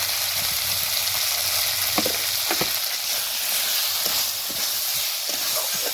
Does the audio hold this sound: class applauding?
no